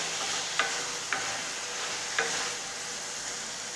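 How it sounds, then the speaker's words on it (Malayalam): Brinjal masala fry, eggplant with turmeric in oil, is stirred in a pan. A continuous close sizzle runs throughout, broken by three light spoon taps against the pan. "ഇനി നമ്മൾക്ക് അതുപോലെ തന്നെ ഇളക്കി കൊടുക്കാം ഇളക്കി കൊടുത്തിട്ട് അതൊന്ന് വേവിച്ചെടുക്കാം"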